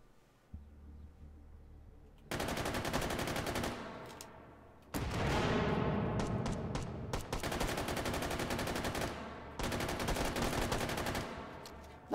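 Gunfire bursts in the VR shooter H3VR, with rapid automatic rattles coming in long, loud, close volleys separated by short pauses, and a sudden blast opening the heaviest stretch.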